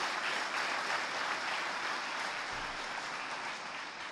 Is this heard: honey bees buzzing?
no